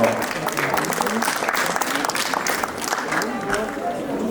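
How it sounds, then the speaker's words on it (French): An audience applauds at a cat show, making a steady wash of clapping that holds at an even level throughout with faint crowd murmur beneath and no clear talk. "Vous pouvez aussi l'applaudir fort."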